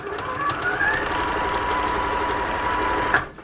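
A sewing machine runs steadily at close range, stitching a cord channel on a detachable hood, with a fast, even mechanical hum and rattle that stops abruptly near the end.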